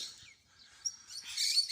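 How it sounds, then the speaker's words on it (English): Rosellas and little finches feeding on flowers in a big gum tree give high, thin chirps and twitters that build into a brighter, denser chorus toward the end. "there's heaps of rosellas, little finches, everything in there just eating the flowers"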